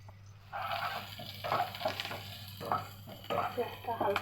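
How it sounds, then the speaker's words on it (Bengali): Onions frying in hot oil, stirred with a spoon, the sizzle rising in several scraping bursts against a low steady hum. "পেঁয়াজটা হালকা হালকা ভাজা হয়ে এসছে"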